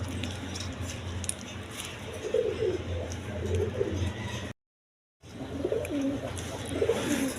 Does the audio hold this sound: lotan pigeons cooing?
yes